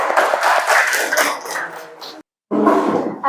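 A classroom of students claps and cheers for a group, a loud, mixed burst of hands and raised voices that breaks off briefly and then starts up again.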